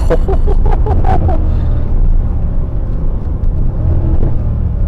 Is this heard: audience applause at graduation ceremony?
no